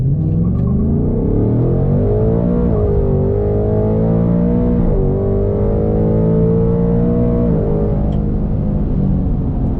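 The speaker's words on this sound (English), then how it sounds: "rev the car up to until the brakes are about to give out, and then just floor it" A 10-speed Mustang launches at full throttle with a loud, close engine roar that climbs steadily, then dips briefly at each of several gear shifts.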